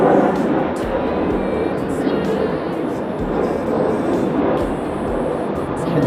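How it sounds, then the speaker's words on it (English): An ANA airliner departs Okinawa airport, its steady broadband jet roar holding at a constant loud level throughout with no clear rise or fade. "I think we've got a departing"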